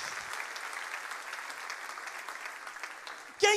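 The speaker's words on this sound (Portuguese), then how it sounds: "Aplauda o nome de Jesus esta noite." A church congregation applauds during a worship service with sustained, even clapping from many hands at moderate distance. A short louder burst comes right at the end.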